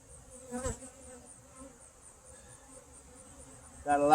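Faint, steady buzzing of honey bees around an opened hive during an inspection, with a soft knock early on and a louder burst of activity right at the end.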